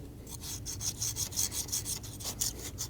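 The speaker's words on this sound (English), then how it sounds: "Using a scraper, go around and clean the mating surface." Brisk back-and-forth scraping on a Volkswagen Passat intake manifold mating surface, a close, dry, rasping rhythm of quick strokes as the scraper clears old dirt and oil from the metal.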